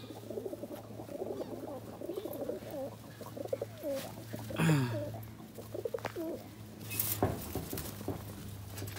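Kaldom pigeons coo repeatedly and close by in a soft, steady rhythm, with a brief flutter or movement sound partway through and no speech.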